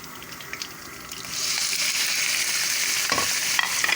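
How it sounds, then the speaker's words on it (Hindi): Chicken pieces hitting hot oil with browned garlic and ginger, a steady loud sizzle that swells after the first second and holds, with a stirring clatter near the end. "चिकन ऐड कर देंगे।"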